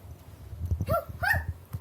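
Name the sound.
child imitating dog barking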